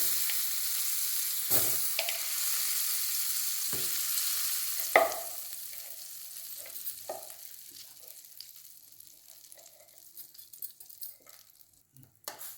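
Chilled, hardened butter melting in a kadai over moderate heat while making ghee from cream, with a steady broadband sizzle, scattered clinks and scraping stirs, fading gradually quieter and alone.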